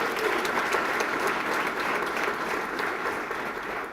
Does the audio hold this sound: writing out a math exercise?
no